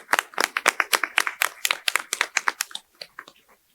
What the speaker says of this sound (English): May I also welcome a round of applause for our facilitators in the audience.